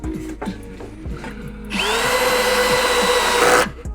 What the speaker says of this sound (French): ce que tu peux faire, c'est que tu les mets avec ta visseuse.